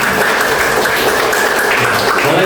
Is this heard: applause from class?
yes